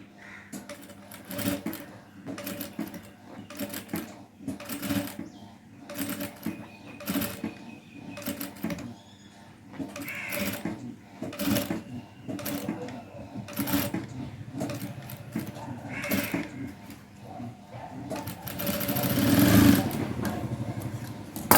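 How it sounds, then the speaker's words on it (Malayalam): Domestic sewing machine stitching fabric for a hair-bow or dress flower, running in repeated short bursts with pauses between, fairly close and moderately loud, with brief faint speech here and there. "നമ്മൾ മെഷീനിൽ വെച്ചൊന്ന് സ്റ്റിച്ച് ചെയ്തെടുത്താൽ മതിയാവും കേട്ടോ"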